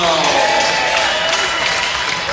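Crowd in a high school boys basketball gym cheering and applauding for the players, a steady dense roar of voices and clapping filling the hall, with some talk mixed in.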